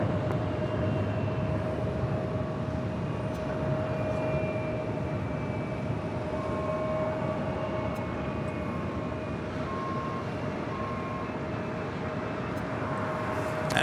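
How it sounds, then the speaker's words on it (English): Brand new Boeing 787-8 Dreamliner arriving from Tokyo at Los Angeles International Airport, a continuous broadband jet rumble with a faint steady whine, moderately loud and unbroken, with no talk. "a brand new 787-8 Dreamliner coming in from Tokyo to Rita"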